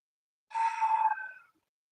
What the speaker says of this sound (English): That was my cat meowing, by the way.